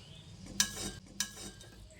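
Stirring masoor dal in a pan for a Bengali lentil chorchori, with two short scraping strokes of a utensil against the pan over a low, steady cooking hiss.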